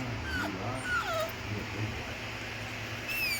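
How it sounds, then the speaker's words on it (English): Young puppies, all about six weeks old, whimper in faint, thin high-pitched calls scattered over a steady low background hum, with a few squeaky whines near the start and end. "so here's the puppers"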